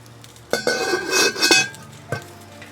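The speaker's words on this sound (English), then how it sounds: "we're going to put it on, put the lid on." A lid going onto a pot of chicken soup: a metallic clank and rattle as it settles, followed by one more sharp clink, close and brief.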